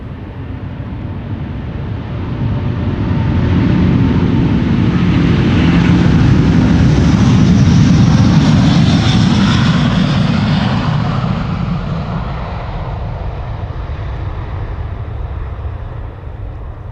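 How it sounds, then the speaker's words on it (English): A Delta Airbus A330neo jet roars on departure at Amsterdam Schiphol, a loud, broad engine rumble swelling to a peak midway and then slowly fading as the aircraft passes and climbs away. "Delta Airlines Flight 91, now doing a turn and burn, going to Orlando, Florida. It's an A330 Neo"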